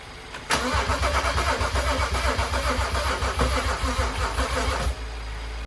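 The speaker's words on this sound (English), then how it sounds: "This engine would crank for as long as you had battery power, but would not start." A BMW N55 engine cranks over and over without catching, a steady rapid starter churn that holds loud and close for several seconds before cutting off.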